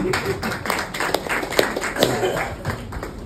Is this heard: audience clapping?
yes